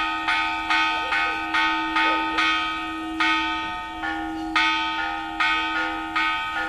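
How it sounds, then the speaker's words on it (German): Church bells ring from a bell tower in a regular, evenly spaced series of clear, resonant strikes. Each strike decays into a sustained humming tone, heard moderately close with nothing else over it. "Sie läuteten für verirrte Wanderer und verhallten zu Festen."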